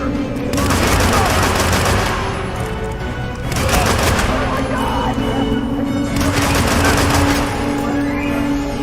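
Rapid automatic gunfire in Hitman 2 comes in three long sustained bursts separated by brief lulls, loud and close, over a low background rumble.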